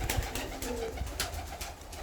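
Show pigeons coo softly among steady outdoor background noise, with low murmuring calls and a few brief flutters, moderately close.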